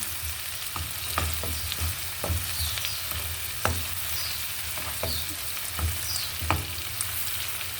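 Cauliflower sautéing in a pan for a meatless dish, a steady close sizzle and fry with stirring scrapes and clicks of a utensil recurring every second or so, no talking.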